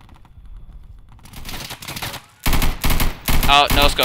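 Bursts of automatic gunfire from the Insurgency video game, starting faint and scattered, then loud rapid volleys that break off and resume in clustered strings.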